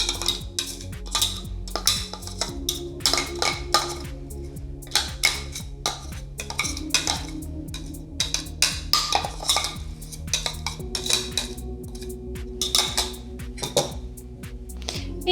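Repeated clinking and scraping of a utensil against a bowl as blender-chopped garlic and herbs are stirred into a lavash filling, an uneven rhythmic clatter close by, no talking.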